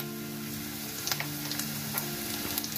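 Onions, green chillies, turmeric and spices frying in a pan for a masala aloo dosa filling, a steady close sizzle with light crackles and occasional stirring taps, no voices.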